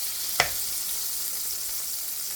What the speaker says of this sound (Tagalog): saute butter